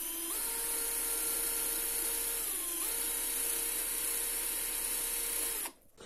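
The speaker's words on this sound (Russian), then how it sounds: "Ну, как видите, все прекрасно сверлит." A power drill bores into a steel pipe with a steady high whine, its pitch stepping down briefly midway, running continuously for several seconds before stopping abruptly near the end.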